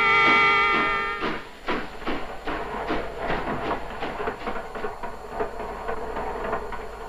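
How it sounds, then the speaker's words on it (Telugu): A train rolls past close by, its steady rhythmic clickety-clack of wheels over rail joints loud and continuous, with a brief tonal horn-like hum at the start and no voices. "రైలు వెళుతున్న శబ్దం వినిపిస్తోంది"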